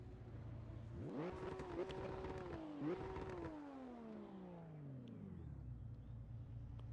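A race car engine in the racing game Assetto Corsa Evo rising through two quick revs and shifts, then winding steadily down to a low idle, heard at moderate volume over a constant background hum.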